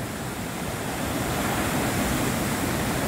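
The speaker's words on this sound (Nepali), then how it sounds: "ठिक्क मात्र पानी यतातिर झरेको रहेछ" Water pours steadily past a damaged drinking-water dam in Nepal, a dense continuous rushing roar heard close and loud, with some wind buffeting and no talk.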